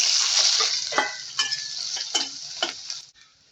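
Sliced onion frying in hot oil with mustard seeds and ajwain for a vegetable dish, a steady sizzle broken by several clinks and scrapes of a spoon stirring the pan, which fade at the end.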